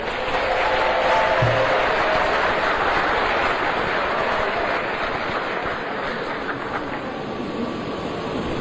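A large audience at the Cameroonian Ballon d'Or ceremony breaks into sustained applause, a dense wash of clapping that holds steady throughout and eases slightly toward the end.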